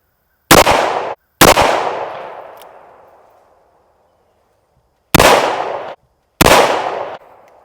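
Two pairs of sharp, loud gunshots from an heirloom .38 Special revolver firing flat-nose bullets at pumpkins; each report is a hard crack with a decaying ring, the second pair following after a silent pause.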